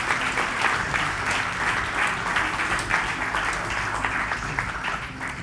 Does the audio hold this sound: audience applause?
yes